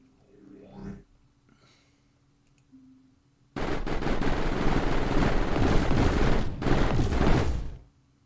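Turret gunfire in the Mindustry video game: a few faint clicks and tones, then a loud, dense burst of rapid fire that runs for about five seconds before stopping abruptly.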